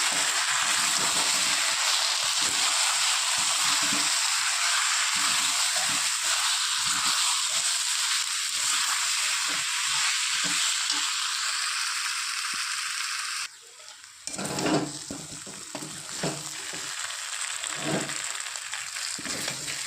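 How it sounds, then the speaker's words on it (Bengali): Meat masala and chili powder frying together in hot oil in a pan for a boal fish curry, a loud continuous hiss and sizzle that breaks off briefly, then returns with scraping stirs and no voices. "সমস্ত মশলা একসাথে কষিয়ে নেব"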